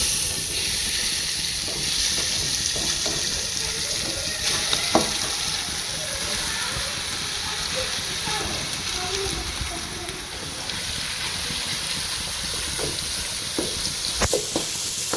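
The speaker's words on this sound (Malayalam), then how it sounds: "ഇപ്പോൾ ഓയിൽ ചൂടായി കഴിഞ്ഞാൽ നമുക്ക് ചിക്കൻ മേലെ ഇട്ട് കൊടുക്കാം" Chicken pieces sizzle in hot oil in a pan while shawarma is being cooked, a steady, close frying hiss running the whole way with small crackles and pops scattered throughout.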